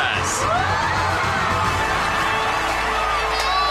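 An anime crowd cheers and whoops for young racers, a busy wash of shouting and applause with a few bangs, loud and continuous throughout.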